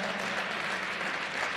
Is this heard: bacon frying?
no